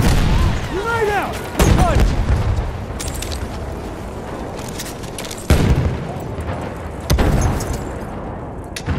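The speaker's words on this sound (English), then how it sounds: "Throw a grenade, watch it!" Grenades and heavy blasts go off in a Battlefield 1 battle, with several loud, close booms in sequence over ongoing combat noise and shouted voices.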